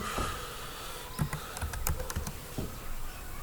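Typing on a computer keyboard while entering text in Photoshop, a few quick, close, light key clicks in an irregular burst over a steady background hiss.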